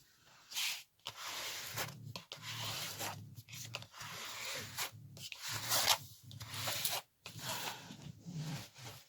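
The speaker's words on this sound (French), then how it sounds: "on va remettre bien le papier en chassant toutes les bulles d'air" Repeated rubbing and sliding strokes, close and fairly quiet, with short pauses between passes, as a hand smooths a sheet of paper flat to push out air bubbles.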